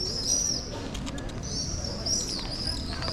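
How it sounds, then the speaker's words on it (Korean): Pigeons in Split's old town in Croatia, with a couple of soft coos and flurries of flapping wings close by, set against a steady outdoor hum. "새들이 미쳤어요."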